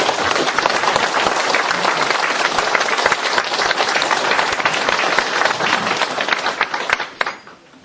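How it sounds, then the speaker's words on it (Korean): Audience at a Korean philosophy lecture forum claps to welcome a professor, dense loud applause from a full hall that holds steady for several seconds and then quickly fades. "시민 여러분 큰 박수로 환영해 주시기 바랍니다."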